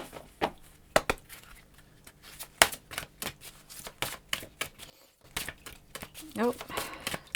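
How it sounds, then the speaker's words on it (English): A deck of tarot cards is shuffled in quick bursts of papery riffling and slaps, close and crisp, with brief pauses between them. "that was an awkward shuffle"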